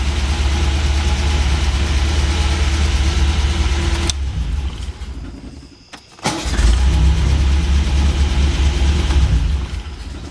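A car engine idles steadily in a low rumble, cuts out for about two seconds, then restarts and settles back into an even idle, close by with no talking.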